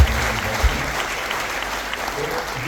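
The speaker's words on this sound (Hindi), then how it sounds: "एक बार ताली बजाइए जिसने" An audience at a national convention breaks into steady clapping, a dense, sustained applause that fills the hall for a few seconds, close and loud with no speech over it.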